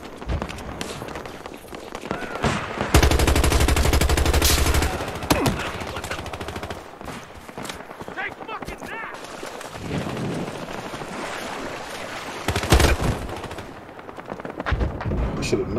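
Heavy gunfire in Battlefield Hardline multiplayer team deathmatch: loud, dense bursts of automatic weapons and sharp single shots rattling close by, with sustained machine-gun strings and scattered distant fire throughout.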